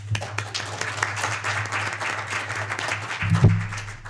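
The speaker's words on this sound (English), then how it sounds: "I guess I'd call for a round of applause for the Personnel Committee" Members of a county board meeting applaud the Personnel Committee, a modest spread of hand claps in a meeting room over a low steady hum, with a louder thump near the end.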